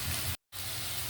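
Potatoes and carrots fry in hot oil, a loud, close, continuous hiss and sizzle broken by a brief silent gap.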